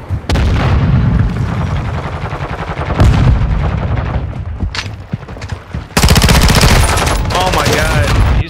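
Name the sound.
gunfire in a video game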